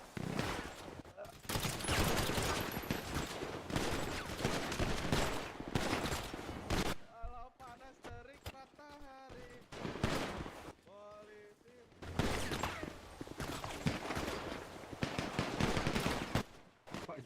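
Sustained bursts of gunfire in a GTA roleplay game session, loud and dense across most of the stretch with a brief lull in the middle, while voices talk over it.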